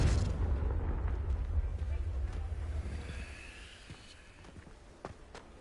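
A Confringo blasting spell in the Hogwarts Legacy video game lands as a deep, rumbling blast that slowly fades over several seconds.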